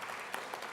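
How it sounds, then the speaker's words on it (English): An audience claps at a panel discussion during an innovation week in Nairobi, a brief steady wash of many hands at middling distance with no voices over it. "Maybe he can stand and we clap."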